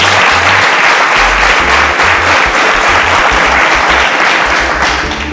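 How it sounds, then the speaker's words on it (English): A studio audience on a television show bursts into loud, continuous clapping for a young guest, a thick wash of hands that stays strong throughout with low thumping underneath and fades slightly at the close. "A round of applause for Joshua."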